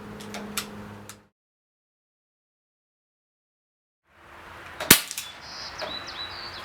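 A single sharp crack from an Umarex Walther PPQ CO2 pellet pistol, loud and close, rises out of faint room noise after a long silence, followed by a brief electronic beep.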